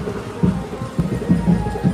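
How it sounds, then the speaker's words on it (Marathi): Rain falls steadily outdoors during monsoon weather, a close, soft patter with small uneven surges and no voices. "पाऊस चालू आहे"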